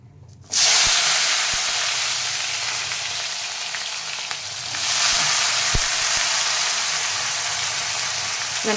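Cauliflower pieces tipped into hot oil with spluttered mustard seeds for a cauliflower sabji fry with a loud, steady sizzle that starts abruptly and swells again partway through, with a few faint clinks of stirring.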